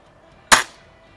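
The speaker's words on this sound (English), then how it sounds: "So the next ones I'm going to try are the RWS Superdomes. And we'll go ahead and shoot at one of these pasters I got on here." A Weihrauch HW50S springer air rifle fires a single RWS Superdome pellet, one sharp close crack with a short decaying tail in otherwise quiet surroundings.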